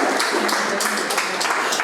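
Audience at a talk applauding, a dense, even wash of clapping from many hands that holds steady for a couple of seconds without pause.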